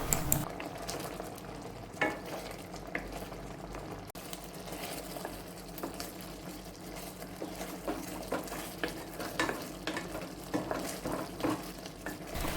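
Banana pieces simmer in jaggery syrup, a quiet bubbling hiss with scattered soft clicks and scrapes of stirring, faint and close, no voices.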